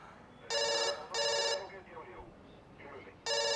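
A telephone rings in an office setting, two loud electronic bursts followed by a pause with faint voices, then a third ring begins.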